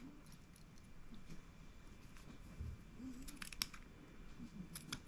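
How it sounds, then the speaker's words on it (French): Scissors snip through a ribbon in a quiet room, several faint, short crisp cuts clustered near the end over low background hiss. "Et je viens découper parce que il va être trop large. Donc je découpe mon ruban."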